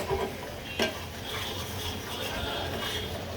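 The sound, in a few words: sautéing onions in oil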